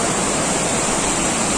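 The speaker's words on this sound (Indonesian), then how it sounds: "Bagaimana bentuk air terjun Lubuk Hitam tingkat 3?" The third tier of the Lubuk Hitam waterfall roars as a steady, loud, broadband rush of falling water, continuous and unbroken, heard close with no voices.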